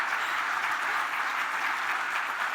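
Steady, dense applause from a large audience at a corporate annual lunch, filling the room evenly and loudly for the whole stretch with no voices breaking through.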